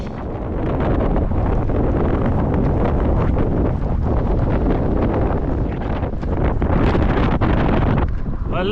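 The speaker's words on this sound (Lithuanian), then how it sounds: "Atgal kovoti su vėjais." Strong wind roars steadily and loudly across the microphone while cycling in Scotland, a dense buffeting rush that hardly lets up for the whole stretch, with a brief higher whistle near the end.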